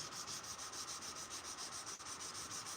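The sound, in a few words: hand sanding a knife blade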